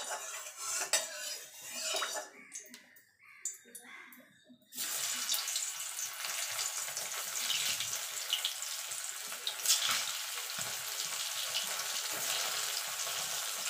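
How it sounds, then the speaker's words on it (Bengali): Potatoes go into hot mustard oil in the kitchen. A few utensil clinks come first, then a loud, steady sizzle that crackles on evenly to the end. "এবার আলুগুলোকে আমি ভেজে নেব।"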